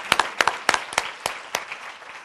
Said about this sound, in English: if we can give a round of applause